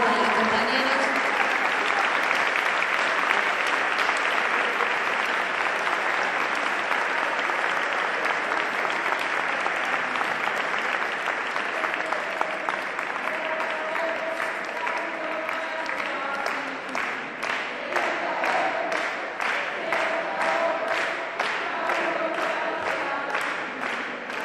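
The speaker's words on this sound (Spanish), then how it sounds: "Un aplauso para los compañeros" A congress audience applauds departing education delegates in a long, steady wash of clapping that holds for the whole span. Faint voices are audible beneath it, and the clapping grows slightly patchier toward the end.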